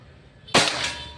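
A single sharp shot from a Pajero Gun Gen 6 air rifle during an accuracy test, a close, loud crack with a short ringing tail, standing alone with no talk.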